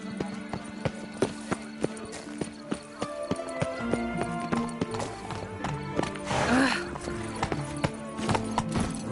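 Roach, a horse in The Witcher 3, gallops with rhythmic, steady hoofbeats and lets out a neigh partway through, set against game music and ambient sound.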